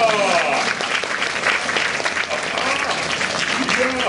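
Loud, steady audience applause fills a Tokyo DisneySea Turtle Talk show theater, a crowd clapping continuously throughout, with a voice and lively chatter mixed in over it.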